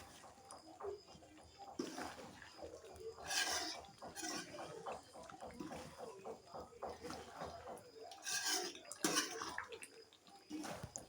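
Chicken gravy is stirred with garam masala in a pan, giving faint wet squelching and sloshing with soft scrapes, repeating unevenly throughout.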